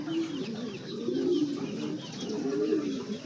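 Pigeons cooing in a loft, soft repeated throaty coos rising and falling close by, with no talk over them.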